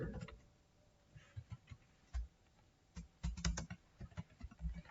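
Keys clatter on a computer keyboard as C code is entered, irregular clusters of soft clicks and taps, close and fairly quiet, with pauses between bursts.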